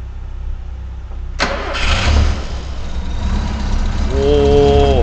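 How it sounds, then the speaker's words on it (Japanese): A 1960s third-generation Toyopet Corona 1500 DX engine cranks and catches on the first try in cold weather, then settles into a steady, quiet idling rumble close by with almost no tappet noise, with a faint voice near the end. "エンジンかけていただいてよろしいでしょうか。"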